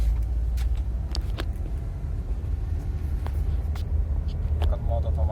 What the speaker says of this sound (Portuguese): Agora o carro está andando perfeitamente.